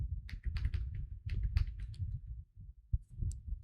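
Keyboard shortcuts for select all and paste are typed on a computer keyboard, heard as a few soft, close clicks in small clusters with short gaps.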